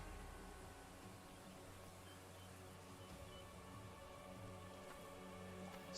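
The Soothing Rain spell in the video game Arcanium casts a soft, even rain hiss, faint and steady for several seconds with no talking.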